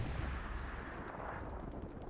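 In a competitive online video game match, a tank is hit and explodes in a low, rumbling blast of fire and smoke, faint and muffled, with no voices.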